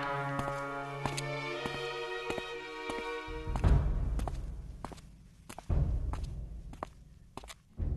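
Footsteps approaching in a machinima animation, heavy thuds sounding over a sustained humming tone that drops out, followed by scattered sharp knocks and taps, moderately close.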